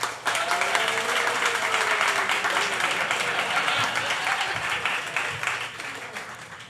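A large crowd applauds steadily with loud, dense clapping that holds for several seconds before easing slightly at the end.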